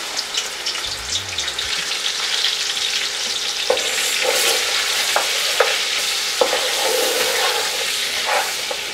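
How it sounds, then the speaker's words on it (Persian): Meat frying in plenty of hot oil in a pot for Uzbeki Kabuli pulao, a steady loud sizzle with occasional clinks and scrapes of stirring, no voices. "در قدم اول وقتی دیدیم روغن ما خوب سرخ شد، نال ما همی گوشت را در سر روغن میندازیم و میمانیم که خوب سرخ شد و رنگ گوشت تغییر کنه"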